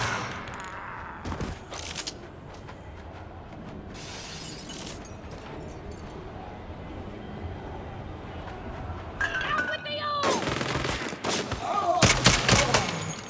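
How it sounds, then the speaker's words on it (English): Minigun fire in the video game Saints Row comes in loud, sustained rattling bursts with crashing impacts, rising toward the end over a constant rumbling background, with some game voices around it. "Is that a fucking minigun?"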